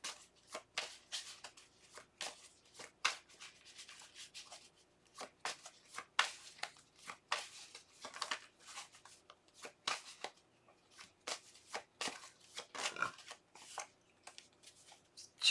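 A deck of tarot cards is shuffled by hand close by, with soft, quick riffling and slapping strokes running in uneven bursts for the whole stretch, quiet and without speech.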